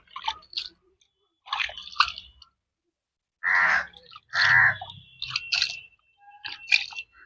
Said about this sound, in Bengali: আমি একটা জল দিয়ে দেখিয়ে দিচ্ছি এরকম দিয়ে জল দিচ্ছি দেখুন